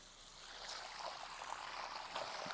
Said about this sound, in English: how fast this water bag can get filled when we use this hose